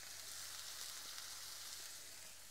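Food frying in butter gives a steady, close crackling sizzle with fine continuous spitting and no voices.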